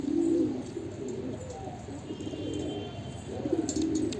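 Lalban pigeons, pure-bred birds kept alongside a wild one, coo in low, rolling, repeated phrases at close range, with a steady background hiss and no talking.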